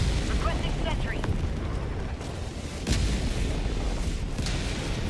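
Orbital strike explosions pound a base in the video game Helldivers 2, a continuous thunderous rumble of blasts with sharper booming impacts rising out of the roar.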